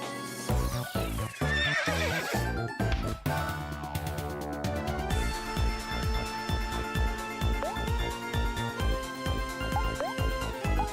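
A horse in the Omori video game neighs loudly over steady clip-clop hoofbeats, the whinny repeating against looping game music and effects throughout, with no voices.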